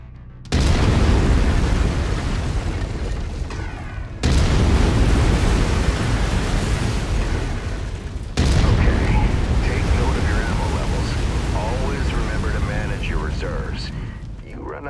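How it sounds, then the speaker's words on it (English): Heavy autocannon fire in MechWarrior 5: Mercenaries, three loud booming volleys a few seconds apart, each followed by a long rumbling tail. "I've mapped the autocannon to Weapon Group 1. You're free to fire whenever you're ready."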